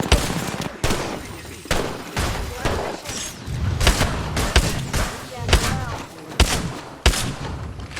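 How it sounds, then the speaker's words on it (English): Rapid bursts of gunfire and heavy thuds from the Apex Legends battle royale shooter, with loud cracks coming in clusters across the whole stretch while players talk over the action. "a lot of gunshots right now"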